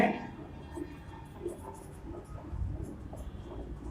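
A pen scratches on paper in short strokes during an English grammar lesson, faint and close, with no talking.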